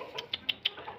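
A handful of short, sharp clucks from chickens, four quick calls in about a second, fairly near over a quiet background.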